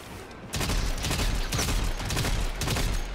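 Rapid automatic gunfire from a Warframe mission, a dense sustained fusillade of overlapping shots that kicks in loudly after a brief quieter lead-in and keeps rattling without a break.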